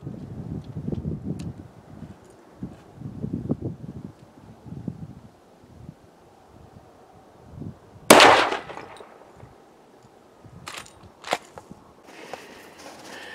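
Marlin Guide Gun lever-action rifle fired outdoors in cold weather: one sharp, loud report cracks out in the middle and fades, followed by a few fainter metallic clanks, with low wind and movement noise before it.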